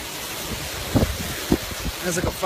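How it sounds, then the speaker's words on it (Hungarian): Strong wind gusts outdoors in Las Vegas, a rough, steady roar of buffeting air against the microphone with a few louder thumps, while a voice briefly murmurs near the end. "elfújja minket a szél"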